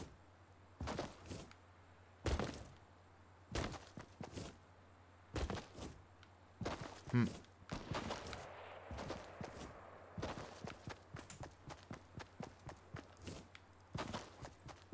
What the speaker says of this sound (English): There's somebody shooting somewhere, man.